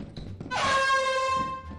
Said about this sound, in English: Ooh, an air horn?